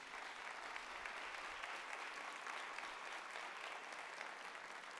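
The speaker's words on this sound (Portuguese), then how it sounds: "Pode aplaudir isso em nome de Jesus." A church congregation applauds in the name of Jesus during a sermon, a continuous, even wash of clapping from many hands, quiet and distant, with no voices standing out.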